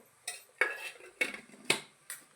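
A spoon stirs egg chutney in a pan, striking the metal with crisp clinks. About six distinct knocks come at a loose, regular pace, each followed by a brief scrape, close and clear.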